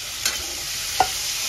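Cumin, chilli and Kashmiri chilli powders frying with ginger garlic paste for a cauliflower dish, a steady soft sizzle with two brief spatula scrapes against the pan, no voices.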